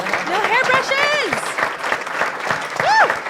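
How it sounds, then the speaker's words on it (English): An audience applauds and cheers a couple standing up, with loud whoops and shouts mixed into the clapping throughout. "Can you two please stand up for one more round of applause for the two of you?"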